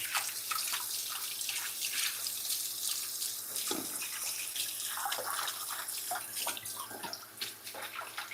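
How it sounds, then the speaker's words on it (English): Water from a kitchen sink tap runs steadily as hands are washed beneath it, a close, continuous splashing rush with small shifts as the hands move through the stream. "let's wash hands."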